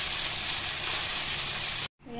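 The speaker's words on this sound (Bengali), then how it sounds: "কড়াইতে সরষের তেল দিয়ে দিয়েছি, ভালো করে লাল লাল করে ভেজে নেব।" Small morola fish sizzle and spatter steadily in hot mustard oil in a wok, a loud continuous frying hiss that cuts off abruptly near the end.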